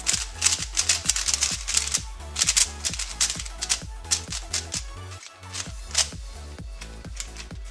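Transparent GuanLong speed cube being turned rapidly: close, crisp plastic clicks and clacks in a fast, fairly even rhythm, alone without talk.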